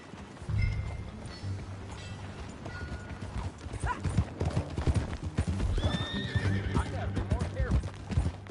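Horse hooves clip-clop in an uneven walking rhythm, with a horse whinnying and people talking over the hoofbeats.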